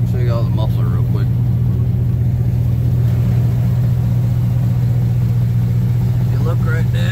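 A 2010 Chevy Silverado exhausting through a Flowmaster Super 44 muffler idles with a deep, steady, close rumble, while someone talks over it.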